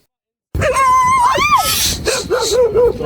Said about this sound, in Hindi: ये देखिए, ये कुत्ते, आवाज आई आपको?